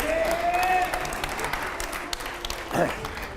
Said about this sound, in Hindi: चलिए जोरदार तालियां हो जाए